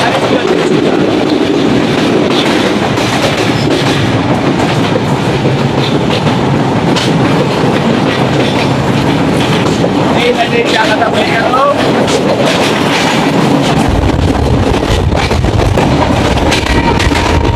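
Jahanabad Express passenger train rolling through Khulna junction in Bangladesh, a continuous loud rumble and rattle of carriages with clickety-clack from the wheels, someone talking over it.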